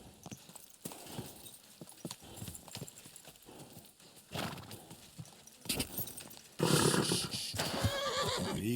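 Horse in the video game Kingdom Come: Deliverance 2, hooves clip-clopping at a steady walk, then a loud close neigh and snorting near the end.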